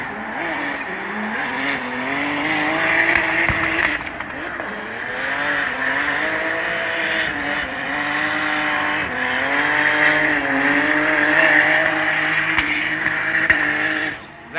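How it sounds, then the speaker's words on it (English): Red BMW drifting at a drift practice session, its engine screaming at high revs with long, sustained tire squeal that wavers across the run, fairly close and loud. "That's Eftigios' first run of the day"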